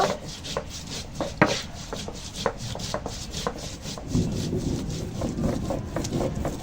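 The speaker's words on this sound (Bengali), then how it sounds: "এখন আদা জিরে বেটে নিচ্ছি একদম মিহি করে বেটে নেব" Ginger and cumin are ground by hand into a fine paste, giving repeated rhythmic rubbing and scraping strokes, close and moderately loud.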